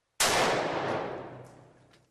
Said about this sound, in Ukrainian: Постріл точний, результат вражає.